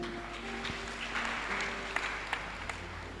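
Church congregation applauding together, a steady wash of clapping with a few sharper claps standing out near the end, moderately loud and with no talking.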